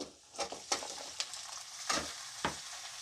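Chicken and potato pieces frying with onions in a pan for a Kerala-style chicken curry, with a steady soft sizzle and several sharp stirring scrapes at irregular intervals, close and moderately loud.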